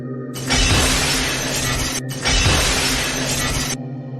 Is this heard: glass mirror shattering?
yes